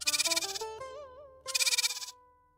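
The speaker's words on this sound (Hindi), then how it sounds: "ये आवाज, बकरा।" A goat bleating in a Hindi moral-story cartoon, with two loud, wavering, nasal bleats separated by a short gap, close and clear with no talk.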